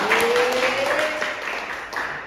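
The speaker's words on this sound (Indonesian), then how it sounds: "tepuk tangan untuk Irwan" A short burst of clapping for a student in an economics class, brief and fairly even, with a voice briefly audible over it.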